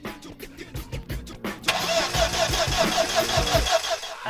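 An Audi B6 Avant engine cranks with a rapid series of starter pulses, then catches and settles into a steady, loud running drone that continues close by to the end, with no talk.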